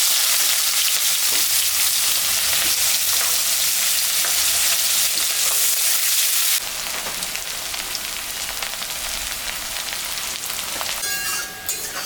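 Chopped onion fries in hot oil with panch phoron, making a loud, dense, continuous sizzle like heavy rain that drops a little in level partway through, with some stirring and no talking.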